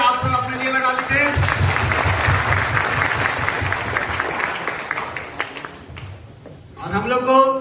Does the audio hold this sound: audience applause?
yes